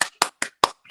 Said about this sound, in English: She likes pomp and circumstance, so I'm clapping